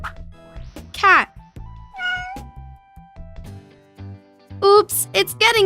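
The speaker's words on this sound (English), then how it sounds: "Cat." A cat meows in short, rising and falling calls, one clear meow early, then a cluster of several loud meows near the end, with a faint voice and some soft background sounds in between.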